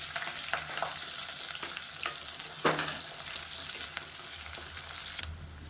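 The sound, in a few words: onions frying in oil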